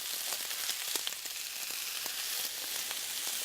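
Vegetables fry on a high flame with a dense, steady hiss and crackle. Faint stirring scrapes are heard now and then, and no one talks.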